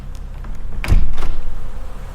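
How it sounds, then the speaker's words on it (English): A balcony door cracked open, giving one short, close scrape and thud that rings out briefly against a quiet background. "She cracked the balcony door."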